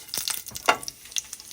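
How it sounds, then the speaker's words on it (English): Crackling sizzle of turmeric and cumin hitting hot oil, with sharp bursts and pops over a steady hiss, close up and fairly loud. "Hear that sizzle? So I'm going to add the turmeric,"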